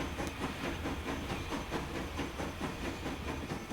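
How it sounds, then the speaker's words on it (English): Steam train in Transport Fever 2, a steady hissing chuff with rhythmic pulses and rolling rumble, moderately loud and continuous with no voices. "New train is coming out of there. It's good to see a new steam engine."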